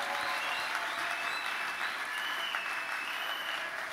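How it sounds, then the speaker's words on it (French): Congregation applauding at a church wedding, a steady, dense wash of clapping that fills the room evenly from start to finish, with no voices standing out. "Ça mérite encore qu'on acclame le Seigneur très fort."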